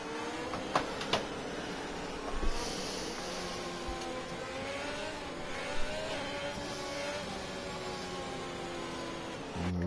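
Several race cars in a Belgian Grand Prix racing video game drone along a straight, their engines whirring and rising in pitch at mid distance, with a few brief knocks and a steady hum beneath.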